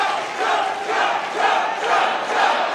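A large crowd at a Trump rally cheers and roars continuously, swelling and ebbing in waves of massed voices that fill the space without a break.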